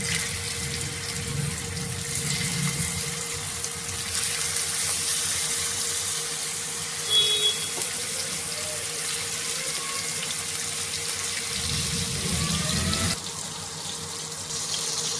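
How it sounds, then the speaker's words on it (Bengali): Rohu fish pieces coated in salt and turmeric fry in hot oil, a continuous close crackling hiss that holds steady with slight swells throughout. "তো তেল গরম হয়ে গেছে, এবার মাছটা দিয়ে দেব।"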